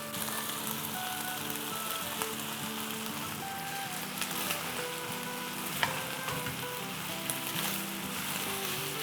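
Noodles with chicken and vegetables sizzle and fry in a hot pan, a steady loud crackle with occasional scrapes and stirring clatter, close up and without talk.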